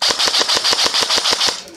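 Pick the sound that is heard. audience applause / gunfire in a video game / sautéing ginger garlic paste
gunfire in a video game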